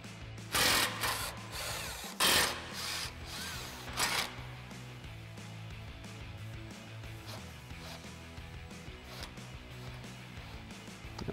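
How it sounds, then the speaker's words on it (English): Power tool, likely an impact driver, removing the last bumper mounting bolts on a 2021-2023 Ford Bronco while the bumper rests on its brackets; three short loud bursts come early, followed by quieter ratcheting and mechanical clatter. "we'll go ahead and slowly remove these last two bolts"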